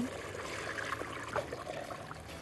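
Broth is poured into a cooking pot on the stove, a soft, steady liquid trickle and splash, close but quiet, with no voices.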